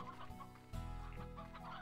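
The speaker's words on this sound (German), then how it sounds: "Die Hühner." Chickens clucking in the video game Slime Rancher, a short burst of close, steady fowl clucks layered over a continuous game soundtrack that swells louder partway through.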